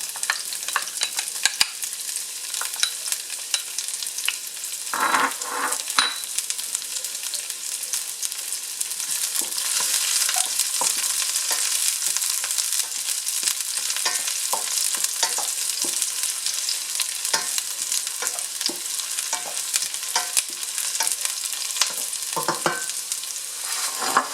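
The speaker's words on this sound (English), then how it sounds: "Let's add the garlic in the oil." Garlic fries in oil in a pan for a mung bean, butternut squash and shrimp dish, a loud continuous sizzling hiss with frequent crackles and occasional stirring scrapes, close and steady, with no talking.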